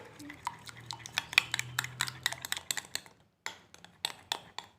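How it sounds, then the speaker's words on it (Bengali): Biscuit batter with sugar and salt being mixed in a bowl until the sugar dissolves, giving a close, rapid run of clinking spoon-on-bowl strokes with a brief pause, and no talking. "এবার খুব ভালোভাবে এটাকে মিশিয়ে নেব খুব ভালোভাবে এটাকে মিশিয়ে নিতে হবে যেন চিনিটা পুরোপুরি গলে যায়"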